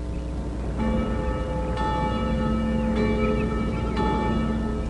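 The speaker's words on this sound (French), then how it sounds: "le petit-fils d'Emma, appelé Jimmy, entendit les cloches d'église sonner" Church bells ring out in a steady sequence of resonant strikes about once a second, their tones lingering and overlapping, with no voices present.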